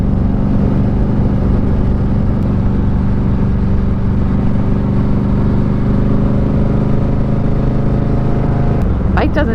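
A motorcycle rides along Texas FM 170 River Road near the border between Terlingua and Presidio, a loud, steady engine drone with heavy wind rumble throughout, ending in a brief clattering burst.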